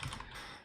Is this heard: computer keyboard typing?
yes